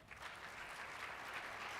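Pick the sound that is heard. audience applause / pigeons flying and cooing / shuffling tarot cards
audience applause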